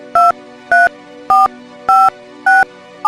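Telephone keypad tones ring out as a number is dialed: six short, loud, evenly spaced beeps, each a two-note electronic chirp, with nothing else heard.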